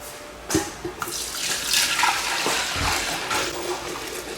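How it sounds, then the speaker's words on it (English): Liquid ice cream mixture made with eggs is poured into an ice cream maker, giving a continuous splashing, gurgling stream after a couple of sharp knocks at the start. It is fairly close and loud, with no talking. "we'll pour this into here, into the ice cream maker"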